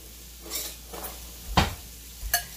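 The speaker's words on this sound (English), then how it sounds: "So I'm just going to stir this up." A few light scraping clinks of a utensil stirring garlic in a pan, spaced irregularly over a soft background hiss.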